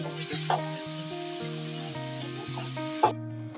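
Onion, tomato, curry leaves and coriander fry in a pan for North Karnataka girmit, a steady close sizzle running beneath background music.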